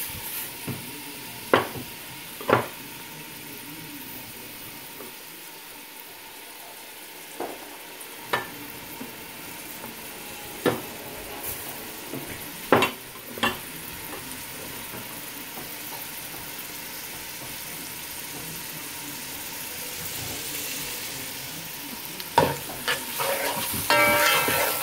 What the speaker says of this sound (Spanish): Y aquí ahora vamos a agregar el aceite que nos quedó. Y vamos a agregar la cebolla picada.